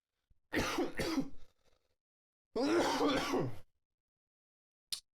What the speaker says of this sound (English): Normally there's a little cough, but geez, that took me out.